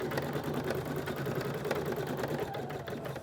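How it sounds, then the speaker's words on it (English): A computerized embroidery sewing machine stitches with white thread while making a curved quilt border, giving a steady, fast, continuous mechanical whir and needle chatter close by and without pause. "the only thing I have to do is press the start button, and it's ready to stitch"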